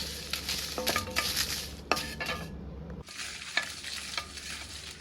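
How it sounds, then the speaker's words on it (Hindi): Half a bowl of whole dried red chilies dry-roasts in a kadhai over a low flame, with a soft sizzle under close scraping and clinking as a spoon stirs them against the metal pan. "अब इसी कढ़ाई के अंदर साबुत लाल मिर्च आधा कटोरी डाल देते हैं और इसे भी हम भून लेते हैं।"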